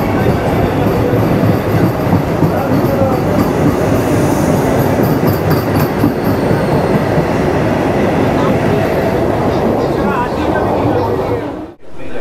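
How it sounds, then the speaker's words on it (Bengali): An air-conditioned local train pulls out of Dum Dum Junction toward Sealdah, a loud, steady rumble of wheels and carriages clattering on the rails that continues throughout and cuts off abruptly near the end. "এসি লোকাল ট্রেনটা কিন্তু দমদম জংশন ছেড়ে যাচ্ছে শিয়ালদার উদ্দেশ্যে"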